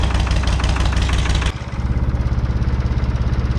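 An International 484 tractor engine idles steadily as it warms up, a loud, close, even throbbing with a brief dip partway through before the rhythmic chug resumes.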